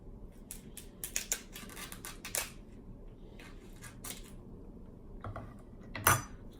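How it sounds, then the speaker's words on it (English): Kitchen shears snip through the hard shell on the underside of a lobster tail, giving sharp metallic clicks and crunchy cuts in short bursts, with a louder crack near the end. "you cut the tail on the bottom"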